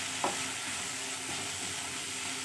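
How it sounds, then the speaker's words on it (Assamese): Cauliflower and potatoes fry in a pan with a continuous close sizzle, and one sharp tap of a stirring utensil comes early on, with no talk. "এইখিনি মই অলপ ভাজি লওঁ আৰু ফুলকবি আলুখিনি মই সিজাই লওঁ"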